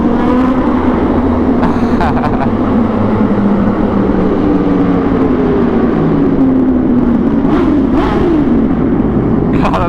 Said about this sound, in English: God, that Aprilia sounds so loud in the tunnel